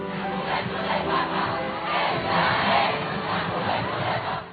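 Huge crowd of more than 650,000 young people at an outdoor papal event with Pope Leo XIV, roaring and cheering continuously as the popemobile arrives, a dense, steady wall of shouting voices.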